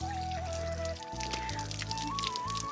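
Water pours steadily from an outdoor tap left running, a continuous splashing gush that stays fairly loud and close for the whole moment, with a faint background tone running underneath.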